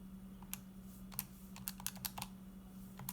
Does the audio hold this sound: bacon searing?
no